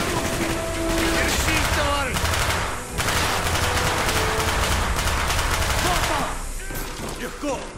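Loud, sustained automatic gunfire from a weapon shot in the video game Call of Duty: Black Ops rattles in long bursts with a short break near three seconds, while shouted voices and battle chatter run over the shooting.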